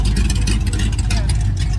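A Dodge Charger muscle car engine rumbles loud and close at a car show, a steady deep idle filling the whole moment with chatter faintly underneath.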